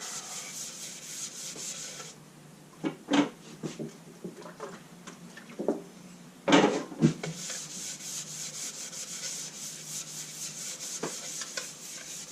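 A soaked spalted maple bowl, 14.5 inches across, is sanded on a lathe under a steady whirring hiss, with scattered rubbing scrapes and a few sharper bumps along the way.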